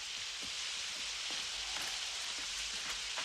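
Steady rain pours down in an animated children's cartoon, a dense even hiss of drops with scattered faint patters on surfaces, constant and close, no voices.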